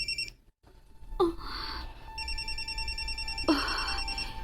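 Mobile phone ringing with an incoming call, an electronic ringtone playing in repeated bursts with a brief silent gap near the start, clear and close, no speech.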